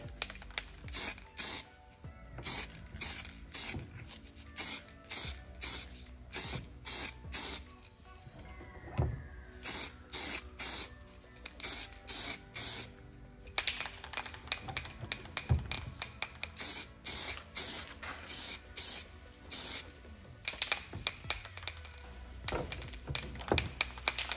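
Rapid hissing bursts of an aerosol spray can coating a BMW E60 M5 steering wheel during restoration, short repeated passes with brief pauses between them, close and fairly loud.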